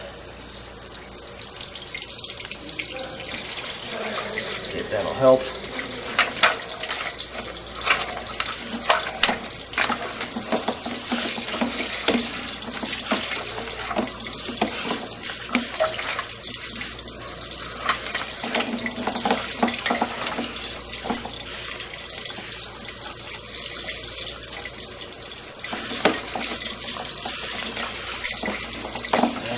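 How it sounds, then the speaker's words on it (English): Water runs steadily from a tap into a sink for the whole stretch, with splashing and clatter over it and a few brief spoken words. "Turn on some water."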